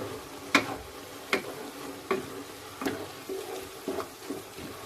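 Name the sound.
tomatoes and onions frying with pav bhaji masala, stirred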